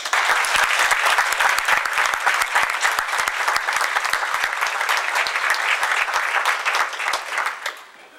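An awards ceremony audience claps steadily for honorees from a reserve deputies program, with dense, sustained applause that tapers off at the end.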